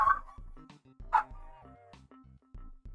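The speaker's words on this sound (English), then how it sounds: "if you hear noise, that's just my dogs" Several dogs bark and yip in short bursts, some higher-pitched and whiny, carrying clearly through a quiet room with no talking.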